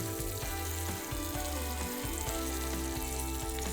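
Fish pieces fry in oil in a small pan with a steady, close crackling sizzle and light spatter running throughout, faint but continuous, with a few low knocks of the pan underneath.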